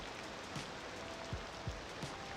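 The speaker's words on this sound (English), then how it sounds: "it's raining something awful here" Steady rain in the city-building game Cities Skylines 2, a soft, even hiss of falling drops with a few dull low thumps, quiet and continuous with no talking.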